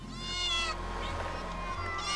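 Pet cats kept in cages in a cluttered home, several close meows overlapping in a short run, with room noise and a voice underneath.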